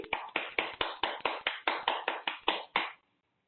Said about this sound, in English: Bring your clapping hands down to your heart. Clap loudly.